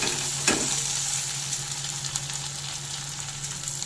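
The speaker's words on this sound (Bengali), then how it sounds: "দিয়ে দেব টমেটো কুচি আবার একটু সাথে নেড়ে নেব" Chopped tomato frying in a pan for a Bombay duck jhuri dish, a continuous close sizzle with a sharp stirring knock near the start and light scraping throughout.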